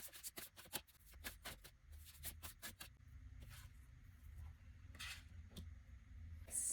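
A deck of oracle cards is shuffled by hand in a quiet room, with a rapid run of crisp riffling snaps up close, then softer sliding and tapping of cards.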